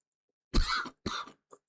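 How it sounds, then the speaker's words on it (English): Two short, harsh coughs close by, separated by a brief pause, followed by a faint small throat sound, in otherwise quiet surroundings. "Starting to cough."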